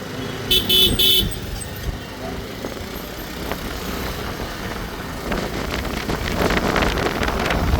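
A car arrives along a road, a loud engine rumble and rush of wind noise building toward the end, with a brief high horn-like tone near the start and faint voices underneath.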